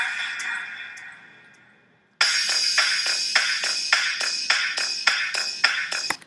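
An electronic dance track slowed to 105 BPM kicks in after a fading swell, with a steady thumping beat and bright synth layers, loud and close with no voices.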